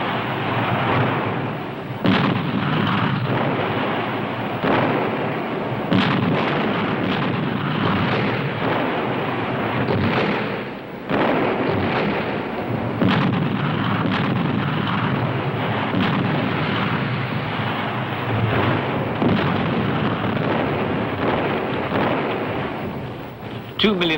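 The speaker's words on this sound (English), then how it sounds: "Each block turned into a fortress has to be razed by the Russian artillery." Heavy Russian artillery fire pounds the streets of Berlin in the final battle, a dense, continuous roar of blasts and rumbling booms with sharp individual detonations standing out.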